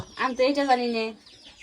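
Chickens cluck in a short burst, a close hen's drawn-out call followed by fainter clucks, with voices faintly in the background.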